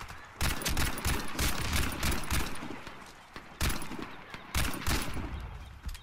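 Automatic rifle fire in the video game Warface, a Tavor STAR-21 Navy Blue firing repeated loud rapid bursts with short pauses between them, plus incoming shots in a busy firefight.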